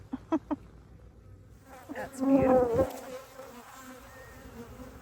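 Honeybees buzz around a backyard beehive during a hive inspection, a loud, wavering swarm drone swelling up midway and then easing off, preceded by a few brief knocks and a short spoken remark.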